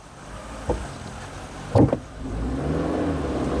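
A Suzuki Jimny engine in 4 low first gear climbs off-road, a low mid-range drone that rises steadily after a few knocks and thumps, close by and moderately loud.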